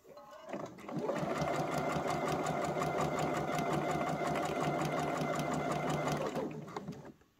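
A sewing machine stitches the seam of a fabric scrunchie, a steady close whirring run of rapid needle beats lasting several seconds, starting and stopping cleanly.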